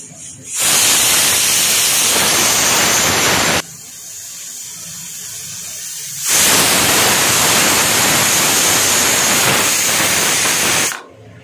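Pressure cooker with raw jackfruit for kofta curry venting steam in two long, loud hissing bursts separated by a short quieter gap, with no talking.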